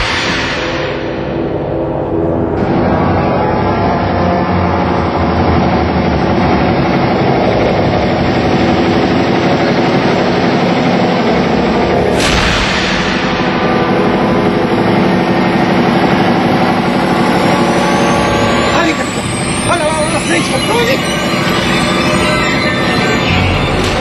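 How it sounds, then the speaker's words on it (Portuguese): A vehicle engine runs at night with a steady, loud, low rumbling drone that continues unbroken and close throughout, with no talking over it. "desliga o motor!"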